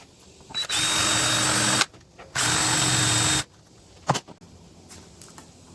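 A power drill drives and countersinks small screws into a wooden board, two sustained whirring bursts of about a second each, close and loud, followed by faint handling clatter.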